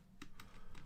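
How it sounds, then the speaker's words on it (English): Quick typing on a computer keyboard, a few sharp key clicks in an uneven burst over a soft background hiss, close but fairly quiet. "Oh, bad typing."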